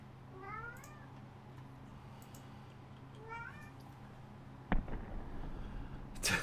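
A pet cat meows twice, drawn-out rising and falling calls near the start and again around the middle, wanting a bird outside the window; low room hum runs underneath, and a couple of sharp knocks and rustles follow near the end.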